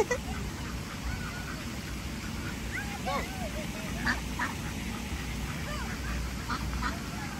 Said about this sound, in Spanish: Miren el montón de patos.